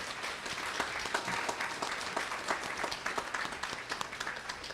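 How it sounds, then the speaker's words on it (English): A banquet crowd at a spring sports dinner for baseball, softball and golf gives a round of applause, the clapping fairly quiet and distant, a dense steady patter with a few sharper claps. "how about a nice round of applause for Cheryl Wolk?"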